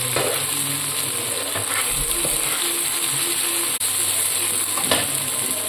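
Spice paste frying in a pan, with mustard seed and poppy seed to be added, giving a steady loud sizzle and crackle throughout, close up with no talk.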